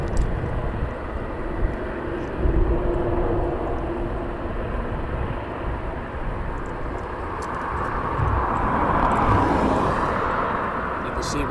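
At East Midlands Airport at night, an airplane taxis with a continuous engine rumble and whine that swells toward the end, while people talk over it.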